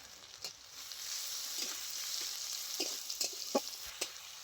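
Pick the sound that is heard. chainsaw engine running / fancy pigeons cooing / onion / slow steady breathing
onion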